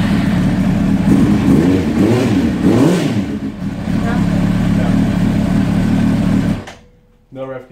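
A Suzuki GSXR750 motorcycle engine revs steadily and loudly, rising and falling in pitch for several seconds, then cuts off abruptly near the end, leaving a brief quiet tail.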